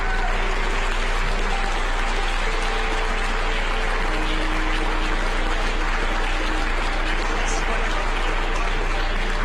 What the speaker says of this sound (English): The James Webb Space Telescope, amidst applause here in the Mission Control Center